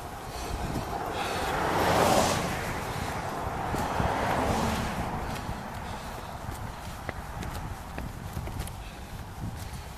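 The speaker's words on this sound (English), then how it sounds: "Saw a lot of horses coming down the mountain." Several horses walk down a mountain trail on a cold morning, hooves clip-clopping steadily in the mid-distance, swelling around the second and fourth seconds before settling into a softer continuous plodding over outdoor ambience.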